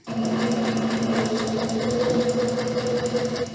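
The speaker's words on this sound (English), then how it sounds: "I'm gonna make sure I backstitch at the very end here." A sewing machine stitches two pieces of pillowcase fabric together, backstitching at the end of the seam. It is a close, steady, rapid mechanical whir with a fast even rhythm and no voices.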